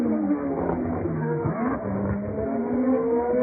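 McLaren Formula 1 race cars scream past on the straight, a steady high-revving engine whine that rises in pitch and holds loud throughout.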